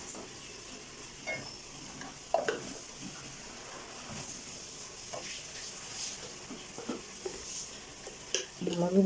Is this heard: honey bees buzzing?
no